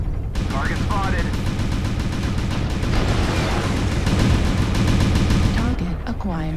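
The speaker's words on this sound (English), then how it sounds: "Who is shooting at me?" Video game gunfire crackles in rapid bursts and sustained automatic volleys, close and loud, over a busy battle soundscape, with a voice briefly heard among the shots.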